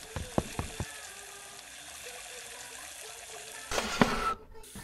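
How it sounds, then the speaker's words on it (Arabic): A sprinkler left open on a tap in a garden sends water out in a steady hiss, with a few sharp clicks early on and a louder gush of water near the end. "من الذي ترك رشاش المياه مفتوحا هكذا؟ في الحقيقة أنا أغلق الصنبور بسرعة"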